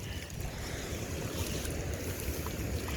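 Rain-swollen creek water rushes steadily over its banks after heavy rain, a close, continuous wash of noise with no talking.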